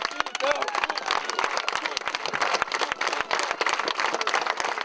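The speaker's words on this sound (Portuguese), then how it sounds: "Antes do sepultamento, mais aplausos." Mourners clap at a funeral before the burial, dense irregular applause from a crowd outdoors, continuous and fairly loud with voices mixed in.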